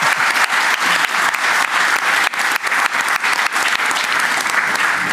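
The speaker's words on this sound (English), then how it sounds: "Another round of applause for our excellent panel" Audience applauding a panel at the close of an expert roundtable, a dense, steady wash of many hands clapping with a few brief dips, loud and continuous throughout.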